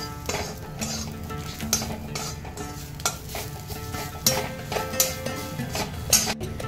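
Stirring spices into urad dal frying in a pan: steady sizzling under repeated scraping and clinks of a spoon against the pan, close and continuous, with no voices.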